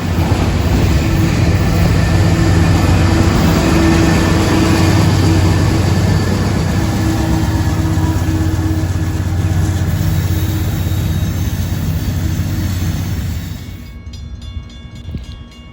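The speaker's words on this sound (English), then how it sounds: "So this is the train we're waiting on. This is NS 101." Norfolk Southern freight train NS 101 rolls close through Decatur, Alabama, with a loud, continuous heavy rumble and grinding roar from engines and cars that holds steady, then drops away sharply near the end.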